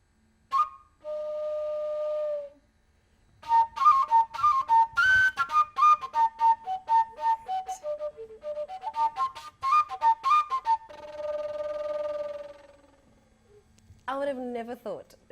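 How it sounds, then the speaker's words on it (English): An iqilongo, a pipe flute originally made from river reed, plays a breathy whistling melody of short rapid notes and a few longer held tones, close and clear, with brief pauses between phrases. "this is a iqilongo."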